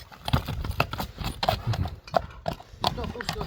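Hooves of a four-year-old horse clip-clopping at a quick, uneven pace, close by, with people talking over the steps.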